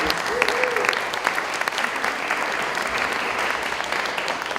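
Audience at a Dayton Public Schools community listening session clapping for teachers, a dense, sustained round of applause from a crowd indoors, with a voice briefly audible near the start.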